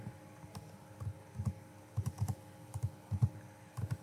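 Computer keyboard keys clacking as PHP code is typed, short bursts of two or three presses with brief pauses, close and clear over a low steady hum, no voice.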